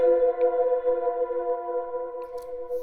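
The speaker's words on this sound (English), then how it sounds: "you can really hear that's a lot of reverb" Sustained choir voices hold a steady chord, washed in a long, smooth reverb tail that blurs the notes together.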